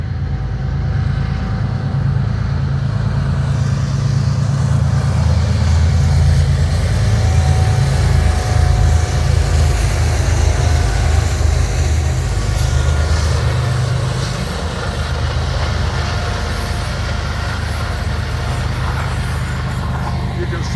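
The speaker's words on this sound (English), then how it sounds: "You can see a westbound, appears to be a Intermodal or Z train coming on main track 2." A westbound intermodal freight train approaches on the main track outdoors, a steady low rumble that swells slightly and then eases, with a faint tonal whine running through.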